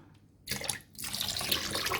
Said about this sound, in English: I am pouring in some vinegar